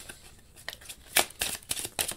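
Kipper fortune-telling cards being shuffled by hand, a close series of crisp riffling and slapping bursts that grow busier toward the end.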